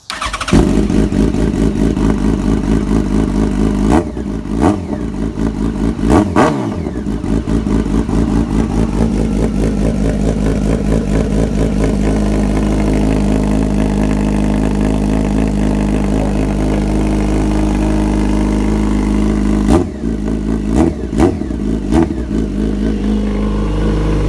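2012 Yamaha FZ1 motorcycle engine running loud and close, holding a steady idle with a few sharp throttle blips early on and again near the end.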